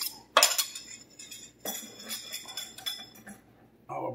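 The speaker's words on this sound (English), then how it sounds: "So on top of that, mix our eggs in there." Eggs being mixed into a cauliflower cutlet mixture in a bowl, giving a sharp clink of a utensil against the dish followed by softer scraping and tapping strokes, close by and without talk.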